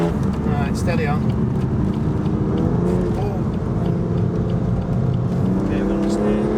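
A BMW M2 Competition on a wet road accelerates with its wheels spinning up, the engine revving loud and close with a rising, wavering tone, while someone talks over it.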